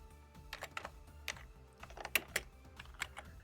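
Steady, irregular clatter of keystrokes on a computer keyboard as values are entered during a programming lesson, close-up over a faint constant hum with no voices.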